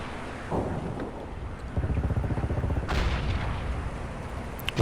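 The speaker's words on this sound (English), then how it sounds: "big O artillery guns over here are firing" Artillery guns firing in the video game Men of War: Assault Squad, with loud booming blasts and rumbling bursts in rapid succession. The barrage closes with a sharp crack at the end.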